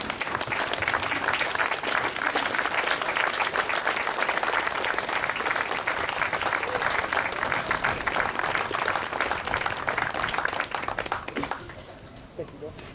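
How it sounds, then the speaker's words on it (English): A graduation audience claps in sustained, dense applause that fills the hall at steady volume, then thins out and stops near the end. "please give them a round of applause."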